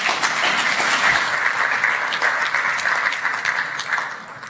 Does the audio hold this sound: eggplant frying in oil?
no